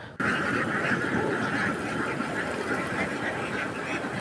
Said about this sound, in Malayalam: അവ ഓടി നടന്ന് ഭക്ഷണം കഴിച്ചുകൊണ്ടിരിക്കുകയാണ്